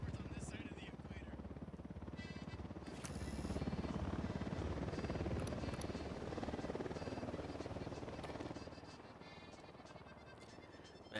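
A helicopter in the video game Ghost Recon Wildlands drones loudly and steadily throughout, its rotor roar swelling midway and easing toward the end.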